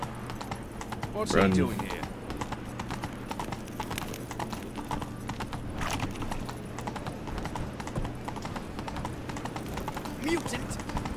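Horse hooves clip-clopping at a run in The Witcher 3 video game, a steady rhythmic gait under game dialogue, with a brief whinny early on.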